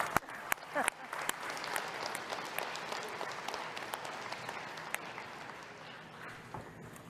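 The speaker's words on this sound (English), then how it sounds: "maybe we can give them another round of applause" An assembly audience at the AFN Annual General Assembly applauds the Haida Nations, a moderately loud round of many hands with a few sharper nearby claps, tapering off toward the end.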